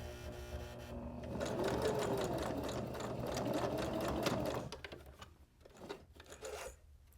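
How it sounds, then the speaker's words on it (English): Sewing machine back-stitching a small fabric cord keeper, a steady, fast mechanical whir held for about four seconds, then stopping and giving way to faint handling noises. "when I get back to the stitching, I'm going to just cross it a little bit and back stitch to lock it all in place nicely"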